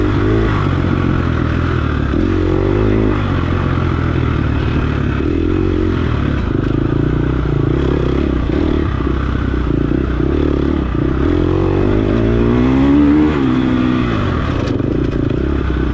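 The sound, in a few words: dirt bike engine revving while racing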